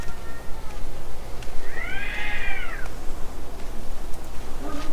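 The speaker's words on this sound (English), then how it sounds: "They're just cats that are mad." Angry cats yowl in a garden, one drawn-out rising and falling caterwaul heard at moderate distance over a steady background hum.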